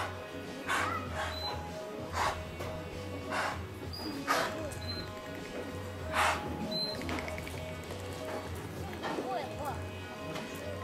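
Dolphins at Attica Zoo surface in a pool and exhale in sharp, puffing blowhole bursts, about five spaced across the stretch, over steady crowd murmur.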